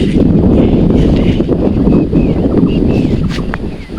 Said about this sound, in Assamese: ইমান লৰি আছে, ইমান ধুনীয়া বতাহ দিছে ইয়াতে।